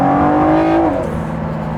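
Ford GT Heritage Edition surging under full throttle from fourth or fifth gear, a loud, close engine roar climbing in pitch before easing off as the transmission downshifts.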